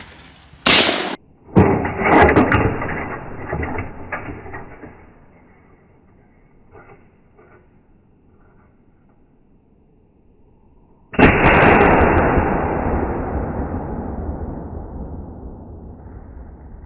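Outdoor target shooting in North Georgia: a few sharp gunshots crack close together at the start, then a single loud shot later rings out with a long fading echo across open ground.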